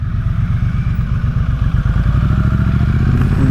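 A 2024 Triumph Speed Twin 900 motorcycle engine at a demo day runs loud and close, a deep pulsing parallel-twin throb that quickens into a faster, even rumble as it revs slightly, with no voices.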